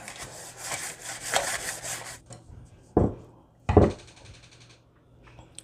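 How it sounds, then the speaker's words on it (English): Butter is rubbed across a loaf pan for banana bread, starting with two seconds of brisk scraping strokes, followed by a few sharp knocks and softer rubs against the pan, with no voices. "I'm just going to butter my pan."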